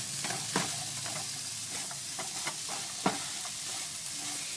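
Onions and zucchini sizzle steadily in a hot pan, with occasional scraping and stirring clicks over the constant crackling hiss.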